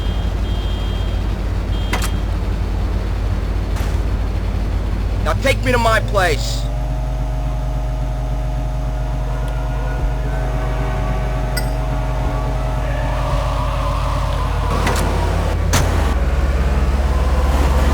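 Car entering and driving in the game GTA Liberty City Stories: a door clink and a starting engine settle into a steady motor drone, with a voice speaking over it.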